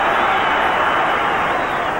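A large football stadium crowd roars steadily for Derry City during a 1989–90 European Cup match against Benfica, a dense, continuous wash of cheering heard from within the stands.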